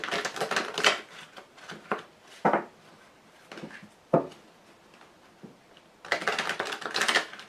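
Wicca tarot cards being shuffled by hand: crisp papery riffles and flicks come in short bursts, then quieter taps and snaps, and a longer busy shuffle at the end, close and clear with no talking.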